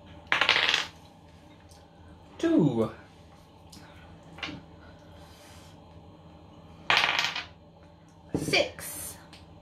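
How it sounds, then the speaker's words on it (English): Dice rolled during a family noodle-eating game, clattering onto a hard surface in four short bursts, each a quick rattle that settles; voices chatter and exclaim between the rolls. "These aren't weighted dice."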